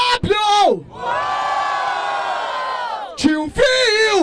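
A live crowd roars and whoops in bursts at a Brazilian freestyle rap battle, the Batalha da Aldeia in Barueri, São Paulo. Loud, dense yelling swells, breaks off briefly, then surges again, with no talk over it.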